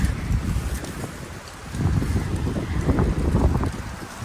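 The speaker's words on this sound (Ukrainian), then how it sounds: "Е, знову вітер піднімається. Я думаю на камеру чути." Wind rises across a mountain forest slope in a high meadow area, rustling through the trees and buffeting the microphone in loud, uneven gusts that dip briefly before swelling again.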